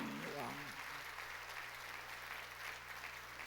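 A church congregation claps in sustained applause during a Korean sermon, a dense, steady wash of hands filling the room, with a voice speaking briefly at the start.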